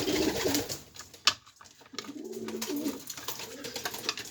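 Pet pigeons or doves coo close by in soft repeated throaty phrases, with a sharp knock or crack between calls and light background rustling.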